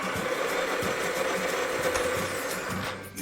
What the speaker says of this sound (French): vous entendez déjà, le moteur tourne, c'est une bonne nouvelle, ça fonctionne